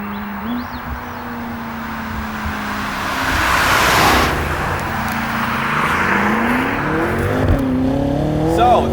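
A BMW F10 M5 with a 4.4-liter twin-turbo V8 drives along, its engine note rising loud and steady over road noise, with a shift and fresh surge of revs near the end.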